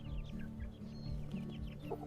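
A Black Australorp hen clucking in a poultry yard, a run of soft, repeated low clucks close by with other birds chirping faintly in the background.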